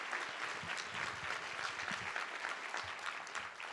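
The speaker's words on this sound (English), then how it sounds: "about one more round of applause for Dominique and the Salish School students?" Audience applause for the Salish School students at a city State of the City address, a steady, dense wash of many hands clapping that holds evenly throughout without breaks.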